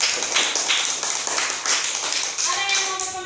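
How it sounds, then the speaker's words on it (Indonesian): A classroom group of students claps in applause for a presenting group, a short burst of scattered claps under a teacher's voice. "tepuk tangan untuk kelompok 4"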